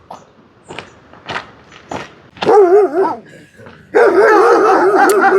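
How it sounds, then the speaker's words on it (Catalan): Dogs in Tajikistan barking at a walker, starting with several sharp separate barks, then two stretches of loud overlapping, wavering howl-like barking from more than one dog, close by. "els gossos aquests què fan? M'han bordat una mica"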